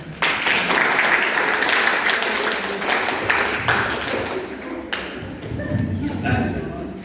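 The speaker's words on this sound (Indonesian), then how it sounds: "Tepuk tangan untuk kita." Applause from a lecture audience at the close of a university talk on diabetes and insulin, a steady wash of clapping lasting several seconds, fairly close and loud.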